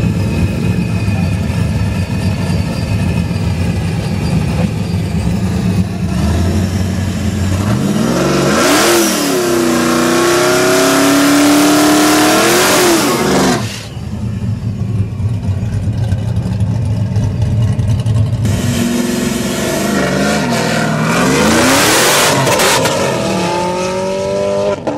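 No-prep drag race car engine revving hard in two long bursts separated by a rough, loping idle, the rising and falling engine pitch loud and close with no talk.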